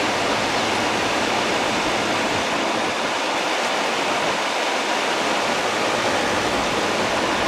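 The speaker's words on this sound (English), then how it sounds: "got a good amount of water coming out of that drain hole every once in a while." Steady rushing water pours from the drain hole of a nearly new-old-stock Fedders A1M10E2A window air conditioner, a constant close hiss and splash with no voices.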